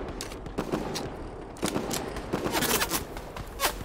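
Rapid gunfire in the video game Fortnite, bursts of shots crackling in fast succession over footsteps and game ambience, loud and close throughout.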